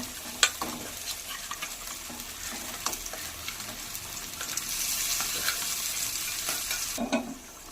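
Boiled goat meat pieces stirred into a simmering gravy, soft repeated scrapes and wet stirring over a gentle sizzle, close but fairly quiet.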